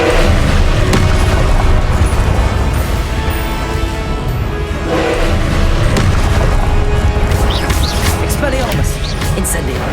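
Explosive Confringo spell blasts booming in Hogwarts Legacy combat, loud thuds and crashes layered in a continuous battle din, with spell names shouted over the action.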